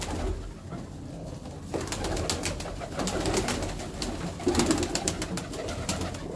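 Teddy pigeons kept in a rooftop loft in Jaranwala, Pakistan, coo softly and repeatedly in overlapping calls, close by over a steady background murmur, with no talking.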